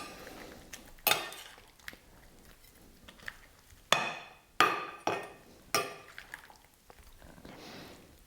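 Chicken aiguillettes with Paris mushrooms stirred in a pan: sharp utensil clanks and scrapes against the metal at irregular intervals, close up, with quiet gaps between strokes.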